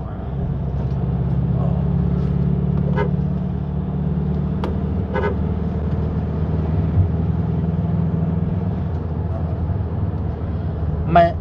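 A Nissan NV350 van with a 2.5 engine cruising in 4th gear, a steady low engine drone and road rumble inside the cabin with a few faint clicks and knocks, and someone talking over it.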